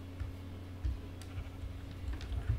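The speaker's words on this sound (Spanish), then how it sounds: "Ah, no, una oveja, ¿qué tal?" Short, low bleats from a sheep in Minecraft come in scattered bursts over a faint steady hum, with light ticking between them and no talk.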